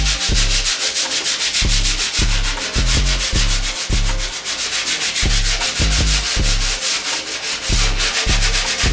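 Sanding a second coat of body filler smooth during a custom car restoration, with rhythmic back-and-forth rubbing strokes repeating at a steady pace, loud and close with no talking.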